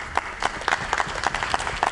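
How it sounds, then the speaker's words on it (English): A small crowd claps steadily for a volunteer team at a youth urban assembly panel in Abu Dhabi, with dense, even clapping throughout and no voices over it. "So just a round of applause to our team really quickly"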